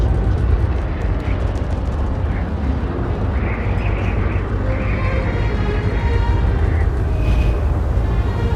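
In Star Wars: The Old Republic, fireworks burst in a dense, continuous rumble of explosions and crackling pops, loud and sustained throughout.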